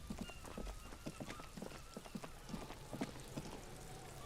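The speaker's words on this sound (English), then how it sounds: "It's raining, mate." Rain falls in the video game Disco Elysium, a soft steady patter with scattered distinct drops and taps spread evenly over several seconds at low level.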